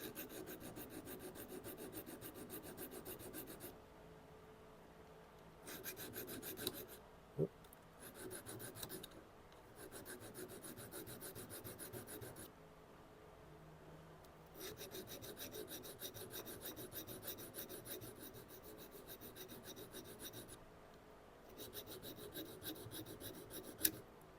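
Titanium serrated Leatherman blade sharpened on a Tormek, a steady rasping grind in repeated bursts separated by brief pauses, close and fairly even in level.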